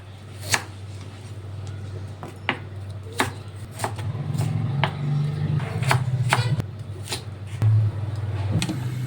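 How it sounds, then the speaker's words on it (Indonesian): A knife slices through fresh ginger on a cutting board in a home kitchen, making about a dozen sharp, separate chops at an uneven pace over a steady low hum. "Ini jahe juga kita iris"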